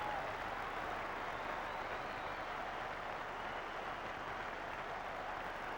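Crowd at a 1991 Rugby World Cup match applauding a try, a steady, broad wash of clapping and cheering held evenly for several seconds, distant and unbroken.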